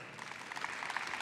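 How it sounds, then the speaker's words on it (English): A brief burst of audience applause at a virtual production event, moderately loud and dense clapping that welcomes a guest onto the stage. "let's have a huge round of applause for Johannes Mücke."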